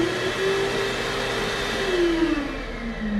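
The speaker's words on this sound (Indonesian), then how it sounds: "ia mendengar suara pengering tangan." A hand dryer runs in a toilet, a steady loud blowing whine with a droning tone that sags slightly in pitch toward the end, continuous and close.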